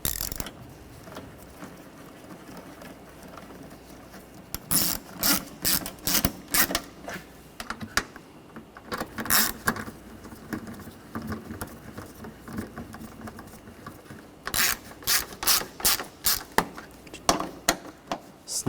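VVT solenoid bolts being tightened on a 2.0L four-cylinder 2013-2019 Ford Escape engine, with quiet clusters of quick ratcheting clicks in several short bursts, close by and separated by handling noise.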